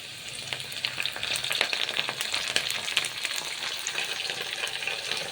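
Curry leaves sizzle in hot oil with browned onions for an Andhra-style spinach dal, giving a close, continuous crackling fry with dense small pops throughout.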